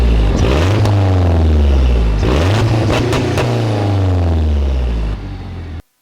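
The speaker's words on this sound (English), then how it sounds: "I'll give it a few revs so you guys could hear how it sounds with the catless downpipes" A 2007 Mazdaspeed 6 with catless downpipes revs repeatedly close by, its loud engine note rising and falling in several throttle blips before cutting out abruptly near the end.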